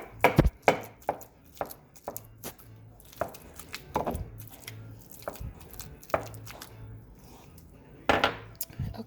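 Stone pestle mashing chunky guacamole in a molcajete, a series of irregular dull thuds and scraping knocks, close and moderately loud, with clusters of quicker strikes and brief pauses between them.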